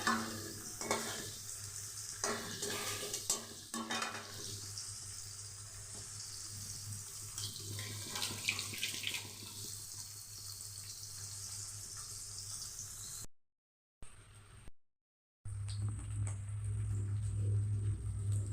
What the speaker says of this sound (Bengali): দুই খেপে ভেজে নেব, তাহলে পনিরটা ভালো ভাজা হবে।